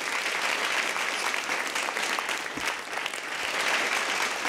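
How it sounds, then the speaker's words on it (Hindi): Audience applause at a Hindi comedy stage show: a sustained burst of loud, dense clapping from a crowd, steady from start to finish with only a slight dip midway. "और यहाँ भी लोग तालियां बजाएं उस लाइन के लिए"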